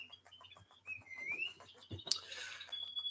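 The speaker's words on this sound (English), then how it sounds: "There's your bird back." A pet bird gives thin, wavering whistled calls, soft and somewhat distant, with a brief sharp chirp near the end among quiet background clicks and rustles.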